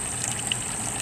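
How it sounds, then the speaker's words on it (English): Water draining from a cleanout sink for rock tumbler barrels into a settlement bucket below, a steady close trickling gush that runs continuously without pause. "Things are draining out of the sink."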